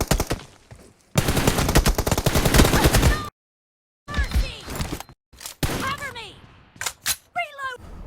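Gunfire in a shooter video game team deathmatch, bursts of rapid automatic fire and single shots broken by short silences, loud and close, with someone talking between some of the bursts.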